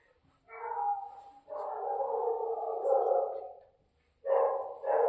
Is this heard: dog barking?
yes